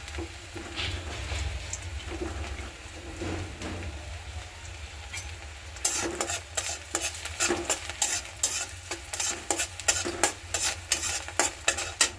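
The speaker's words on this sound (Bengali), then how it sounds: "রসুন কুচিটা দিয়ে দিব" Chopped garlic hits a hot pan and fries with a soft continuous sizzle, then a spatula starts scraping and stirring in quick rhythmic strokes, bright clattering scrapes repeating close by over the frying.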